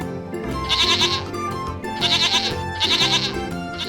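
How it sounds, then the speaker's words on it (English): A goat bleats three times in loud, wavering cries with brief gaps between them, close and clear with no talking. "goat,"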